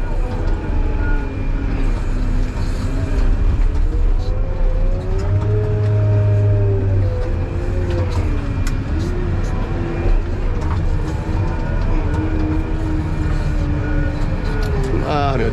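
A truck engine runs loud and close with a continuous low rumble and shifting whining tones as it moves, beside work with a wheel loader and its side dump bucket, while people talk over it.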